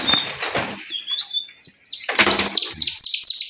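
A female turkey giving shrill, high-pitched calls, close and loud, in a series of rising chirps that turns into a rapid run of squeals, mixed with rustling and flapping.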